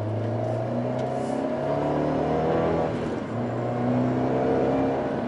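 A Fiat 124 Spider Abarth accelerates hard along a curvy back road, its engine droning loud and steady from inside the cabin as the pitch climbs and falls.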